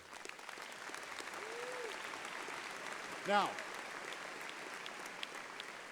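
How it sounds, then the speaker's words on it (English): Audience at a university commencement ceremony applauding, a soft, distant wash of clapping with a brief speaking voice partway through. "I saw every parent applauding"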